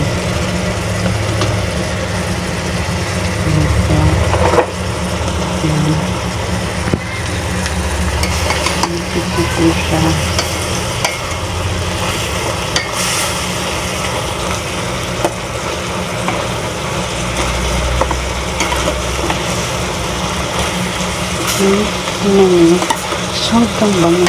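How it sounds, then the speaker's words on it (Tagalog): Shrimp fried rice with garlic, onions and ginger is stirred in a hot pan, a steady sizzle and frying crackle running throughout with scraping stir sounds and a low background hum. "Just continue stirring it para hindi siya masunog."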